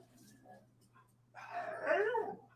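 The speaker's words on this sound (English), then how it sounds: "That was the open the door or clean the floor bark." A pet dog barks indoors at home, a burst of loud, close, rough yelps lasting about a second after a quieter stretch with faint background noise.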